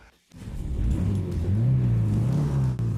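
An old abandoned car's engine cranks and catches after a brief silence, then settles into a loud, close, uneven idle that wavers in pitch as it runs rough.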